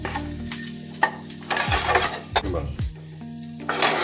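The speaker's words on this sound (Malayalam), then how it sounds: "ഒരു വരട്ടിയെടുക്കാം മുട്ടയ്ക്ക് ഉപ്പും എരിവും പിടിച്ച് നല്ല ടേസ്റ്റ് ഉണ്ടാവും" Boiled eggs being roasted in a pan for egg curry, with bursts of sizzling and the scrape and clink of a spoon stirring against the pan, close and fairly loud.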